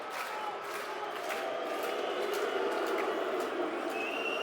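A football crowd at a Millwall home match against Stoke City claps in a slow, evenly spaced rhythm, the sharp claps repeating over a broad, distant stadium murmur.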